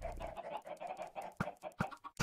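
Many chickens in a Minecraft automated chicken farm cluck in an overlapping, busy chorus, with a few sharper clucks standing out near the end.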